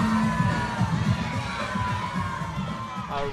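A wrestling crowd full of kids yells and cheers at an independent 3XW wrestling show, a steady wash of high-pitched shouting and noise filling the whole stretch.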